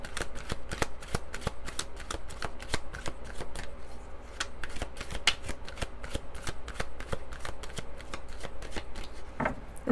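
Tarot cards are shuffled by hand, giving a fast, continuous run of crisp flicks and riffling taps close up for about ten seconds, with no voices.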